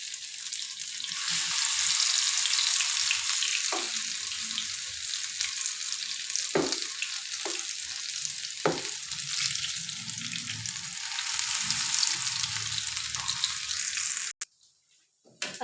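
Spinach pakoras sizzle steadily in hot oil as battered pieces are added, a dense crackling fry heard close, punctuated by a few sharp clinks of a utensil before cutting off abruptly near the end.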